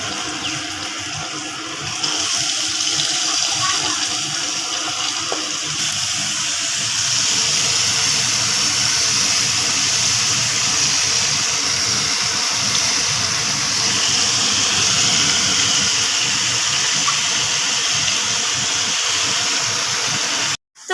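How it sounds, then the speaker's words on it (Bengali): Vegetables added to a pan of fried spices, a steady loud sizzling hiss that swells after the first couple of seconds and continues evenly before cutting off abruptly. "এবার সবজিগুলো ছেড়ে দেওয়া হচ্ছে"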